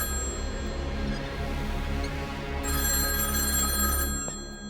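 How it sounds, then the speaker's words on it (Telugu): Telephone bell ringing loudly and steadily, its continuous ring filling the clip with no talking. "ఆ ఫోన్ నీకా నాకా?"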